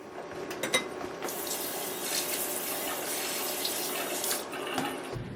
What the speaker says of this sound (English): I'm just gonna give it a quick rinse.